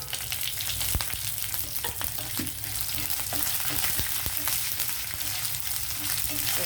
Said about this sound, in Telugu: ఇవి ఏగేటప్పుడే మనం ఎండుమిర్చి పచ్చిమిర్చి కూడా వేసేద్దాం